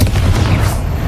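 A Confringo fire-blast spell explodes in Hogwarts Legacy, a loud booming burst with a rumbling low tail that fades over about a second.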